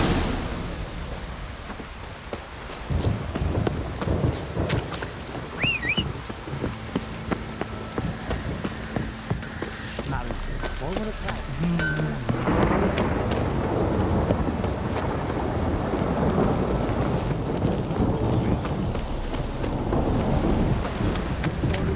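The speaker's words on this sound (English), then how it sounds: "If it don't stop raining, my arse will rot off." Steady rain pours and patters on surfaces in a video game while deep thunder rumbles through, continuous and enveloping, with no voices.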